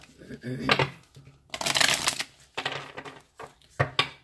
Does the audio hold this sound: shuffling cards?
yes